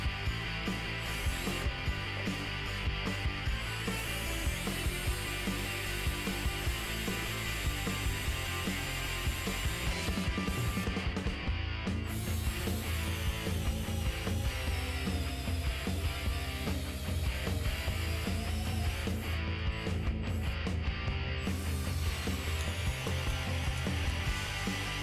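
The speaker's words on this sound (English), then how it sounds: "Now let's see how it does at drilling, since it is a drill after all." A DeWALT 12V Max 3/8-inch DCD710 cordless drill/driver whirs and grinds steadily as it bores into wood, its motor pitch shifting under load, with short pauses and no speech.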